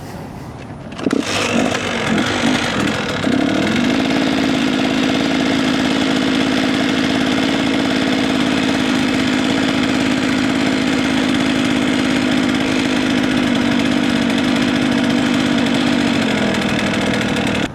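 A motorbike engine starts with a few sputters, then holds a loud, steady drone at constant revs for a long stretch before easing off slightly.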